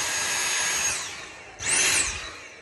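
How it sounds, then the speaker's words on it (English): A vacuum cleaner (hoover) sucks up dust while an old fireplace is being restored, a close whining roar that fades after a second, then surges up again with a rising and falling pitch. "Get the hooveration on it."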